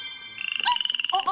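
A frog croaks nearby in a loud, rapid, pulsing trill lasting most of a second, ending in a few brighter chirps.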